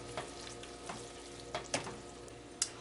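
Noodles and sauce being stirred together in a bowl for a sausage spaghetti dinner, with a few soft, wet clicks and scrapes at irregular intervals over a low steady background, close and fairly quiet.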